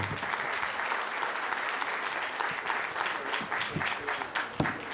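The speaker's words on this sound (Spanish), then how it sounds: "Despidamos a nuestros panelistas con un fuerte aplauso." Audience applause sending off the panelists at a privacy conference panel, steady dense clapping filling the room for the whole stretch, with a few sharper claps near the end.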